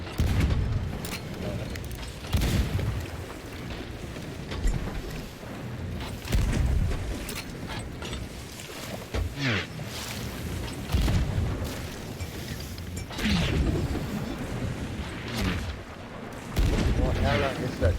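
Ship cannons fire repeatedly during a naval fight in the Sea of Thieves video game, heavy booms landing every couple of seconds, loud and close, with players talking excitedly over the barrage.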